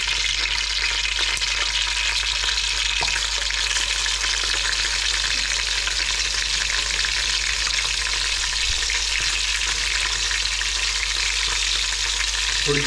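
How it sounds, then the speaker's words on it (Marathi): Ginger, garlic and coriander paste fries in hot oil, giving a steady, close, loud sizzle with occasional stirring scrapes and no talk. "आता तेल गरम झालं की त्याच्यामध्ये आपला अद्रक लसूण कोथिंबीरचं पेस्ट टाकून घ्यायची"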